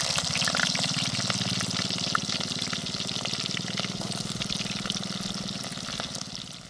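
Chopped red onions fry steadily in hot oil with popping mustard and fenugreek seeds for a village-style fish curry with gongura, a constant close hiss and sizzle over a low hum.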